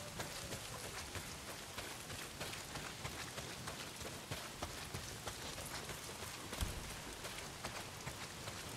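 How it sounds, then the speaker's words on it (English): Heavy rain pours steadily in the video game Days Gone, a dense, even hiss with scattered louder drops and no voices. "Well, not if it's pissing down rain."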